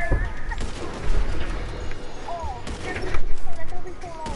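Rapid gunfire bursts in the game GTA 5, crackling volleys that come and go over several seconds, mixed with loud talk from players speaking over the shots.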